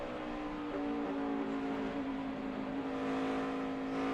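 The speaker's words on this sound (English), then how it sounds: "you can hear him working that throttle too, going through turn 3" Tony Stewart's NASCAR stock car heard onboard at Pocono during the 2009 Pocono 500 through turn three, its V8 engine droning steadily at high revs with slight pitch shifts as the throttle is worked, continuous and close.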